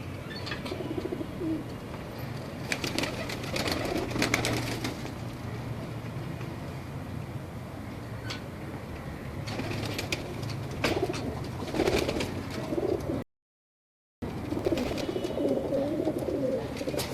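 Pigeons coo softly on a rooftop loft, low repeated calls with occasional wing flaps, moderately distant over a steady background hum.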